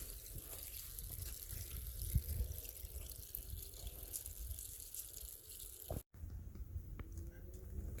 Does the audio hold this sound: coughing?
no